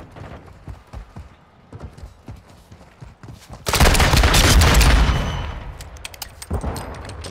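Pistol fire in a first-person shooter video game, a run of sharp rapid shots early on, then a dense, loud burst of gunfire and noise lasting a couple of seconds before tapering off.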